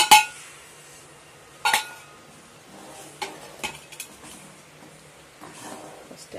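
A spoon adds cumin powder to fish pickle and stirs it, producing a few sharp clinks against a container followed by softer scraping and mixing noises, close and fairly quiet.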